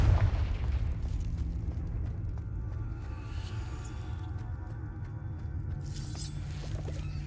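Confringo blasting spell in Hogwarts Legacy, a loud, dense rumbling blast that sustains and rolls on, with a sharper burst flaring near the end.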